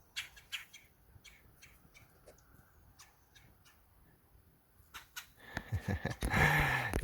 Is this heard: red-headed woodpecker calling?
yes